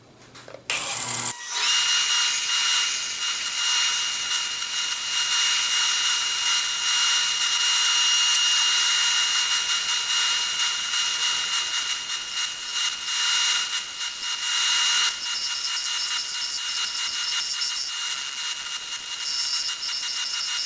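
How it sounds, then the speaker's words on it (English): Power sander flattening the bottom of a wooden bowl, a loud, steady high-pitched whir running continuously after a brief start-up, with slight changes in pitch as the sander presses against the wood. "I'm ready to flatten out the bottom. I'll work on this with the sander a little bit"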